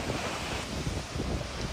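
Steady roaring storm wind with a dense hiss of heavy rain, constant and loud with no pauses.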